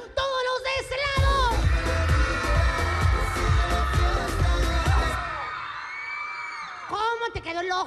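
Crowd of audience members shouting and whooping together at a live comedy show, a loud sustained roar that swells and then fades, with scattered yells returning at the end.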